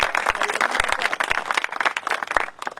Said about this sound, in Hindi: एक बार भाई की ताली बजाओ सिरसा।